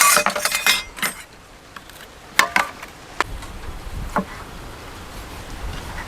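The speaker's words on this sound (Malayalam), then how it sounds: "അപ്പോൾ തക്കാളി ഒന്ന് നമുക്ക് നൈസായിട്ട് അരിഞ്ഞെടുക്കാം." A knife slices tomatoes into rounds, making a quick burst of close taps on the board, then sparse single knocks and clinks with quiet gaps between.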